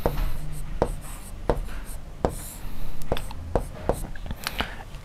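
Chalk or marker tapping and scraping on a board in a class 6 maths lesson on integers, sharp repeated strokes spaced about half a second to a second apart, fairly loud and near, no talking.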